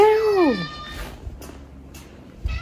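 A cat gives one clear, close meow with a falling pitch at the start, followed by quieter rustling and small knocks.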